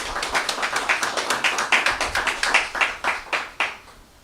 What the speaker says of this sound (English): Please, a round of applause for these artists.